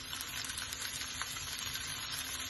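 Steady, dense sizzling of green chillies, ginger and garlic frying in a hot pan, a continuous crackle with no talking.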